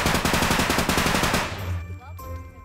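An Uzi submachine gun in a realistic first-person shooter game fires a loud, rapid continuous burst for about a second and a half, then stops, leaving a low rumble and faint game tones.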